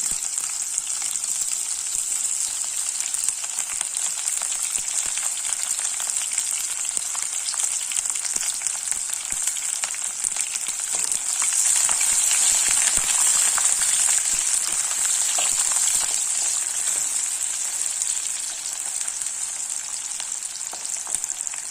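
Sliced onions fry in a pan for coconut milk rice, giving a continuous dense hiss of sizzling oil that swells slightly midway, close and steady with no talking.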